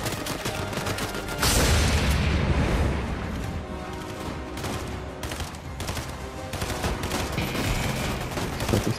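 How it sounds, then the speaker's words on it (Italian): Gunfire in the Fortnite video game, loud and sustained, with rapid shots and crashing impacts layered over a busy mix of game sound and music. "Sparando a qualcuno."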